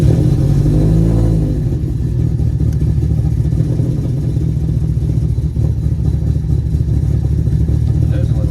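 A built Subaru WRX engine running on pump gas fires up and settles into a steady, loud, slightly choppy idle that stays close and constant throughout, with no one talking over it.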